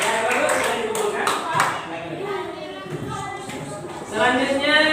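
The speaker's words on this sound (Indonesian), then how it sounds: "Berikan tepuk tangan untuk kawannya." A classroom of students claps in brief scattered bursts for a group that has just presented, mixed with a teacher talking over the applause and a short swell of clapping near the end.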